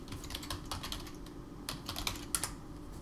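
Quick, uneven keystrokes on a computer keyboard as a search term is typed, close and fairly quiet, with no talking.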